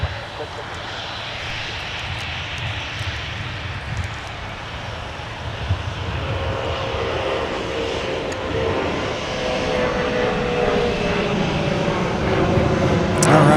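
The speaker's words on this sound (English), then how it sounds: "Got another Prime Air 737 800 Boeing converted freighter with the dusting of snow on the top," A Boeing 737-800 converted freighter's jet engines roar steadily at a snowy airport during deicing operations, loud and broadband, swelling slightly toward the end, with voices faintly underneath.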